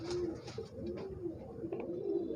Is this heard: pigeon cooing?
yes